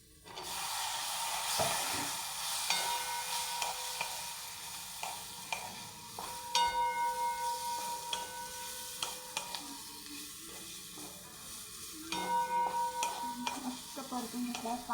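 Drumstick pods stirred into fried masala paste in a pan, giving a steady close sizzle with repeated scraping stirs and clinks throughout.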